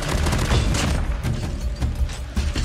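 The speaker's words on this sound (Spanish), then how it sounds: "Escuché múltiples disparos." Rapid bursts of gunfire in a shooter game during a squad firefight, loud and close with repeated sharp cracks and booming thuds over about three seconds.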